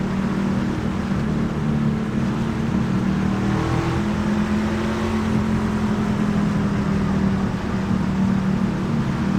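NASCAR Gander trucks race in iRacing at Darlington Raceway, a steady droning roar of engines at speed, loud and continuous with a rising pass in the middle, no talk.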